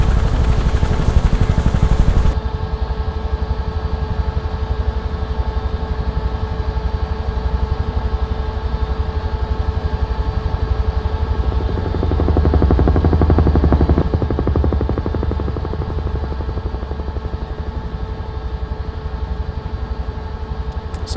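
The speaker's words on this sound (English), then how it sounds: "as my helicopter is under load, and using forward movement to increase my altitude." In a firefighting mission game, a UH-1H Huey helicopter engine under load drones loudly and continuously, a dense rotor thrum and turbine whine that shifts slightly in pitch, with no talking.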